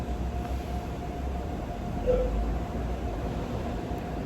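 Steady low rumble of a subway train in motion, with constant hiss and a faint tonal whine, a small bump of louder rattle partway through.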